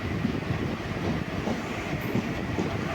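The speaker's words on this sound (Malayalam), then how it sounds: "ഇപ്പോൾ അതേ ഒറ്റപ്പാലത്തേക്ക് എത്തിയിരിക്കുകയാണ് ട്രെയിൻ" The Sabari Express passenger train rolls into Ottapalam station with a steady, loud rumble of wheels on track and faint rhythmic clatter.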